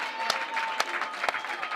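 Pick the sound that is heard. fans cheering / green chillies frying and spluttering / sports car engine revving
fans cheering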